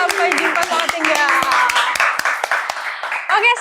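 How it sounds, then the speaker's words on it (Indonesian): An audience at an event for the film Sampai Jumpa Selamat Tinggal breaks into scattered clapping, sharp hand claps cutting through a voice that keeps talking over them. "boleh dong tepuk tangannya buat Sampai Jumpa Selamat Tinggal"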